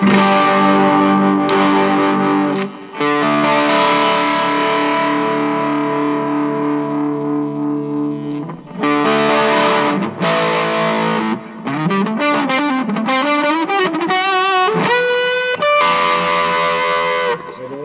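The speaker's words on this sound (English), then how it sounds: "Let's test and play around the knobs together with the Kokko Distortion." Heavily distorted electric guitar through a Caline Kokko Distortion pedal, both pickups selected, plays sustained chords, then choppier riffs and bending single notes, loud and close with no talking.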